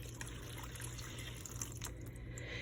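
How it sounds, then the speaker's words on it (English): Water trickles and splashes quietly into a bucket being filled for a children's sensory bin, a faint, steady running sound with no speech. "we need a bucket, and we're gonna take some water to add to our sensory bin"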